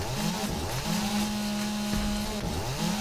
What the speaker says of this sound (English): Put your chainsaw away.